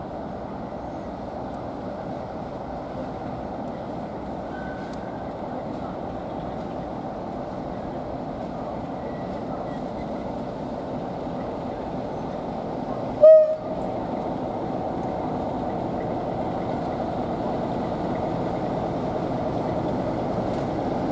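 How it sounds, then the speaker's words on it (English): A train pulls into a station on the Wensleydale heritage railway, a steady low rumble of the engine and wagons building gradually, with a single brief horn toot near the middle and the rolling noise continuing to the end. "Now we get a train coming in here now."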